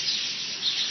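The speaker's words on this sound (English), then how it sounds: "Oh, look at all the birds." Birds being fed by hand chirp in a bright, continuous high twitter, close and fairly loud with no voices.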